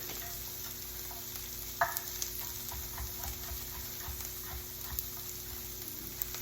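A steady, soft sizzle of sliced mushrooms frying in a pan, with faint scraping and occasional small clicks, fairly close and continuous throughout.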